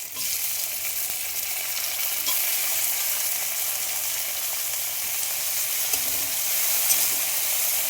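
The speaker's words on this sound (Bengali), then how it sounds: "এবার টমেটোটা দিয়ে দেবো।" Chopped tomato hitting onions and green chilli already fried red in a hot pan, giving a loud, continuous sizzle with stirring scrapes that holds steady for several seconds.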